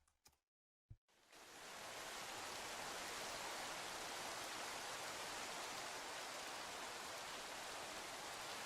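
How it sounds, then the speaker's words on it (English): A heavy Minecraft downpour from the Weather and Tornadoes mod kicks in after a brief silence with a couple of clicks, then swells into a dense, steady hiss of rain that stays loud and even. "not only is the rain louder and denser"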